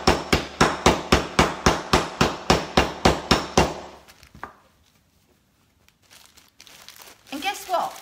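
While a gingerbread house is being made, a hammer strikes in a fast, even run of about fourteen loud, close blows with a crunching edge, followed by quiet and then someone talking.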